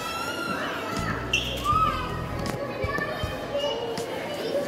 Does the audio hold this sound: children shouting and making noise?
yes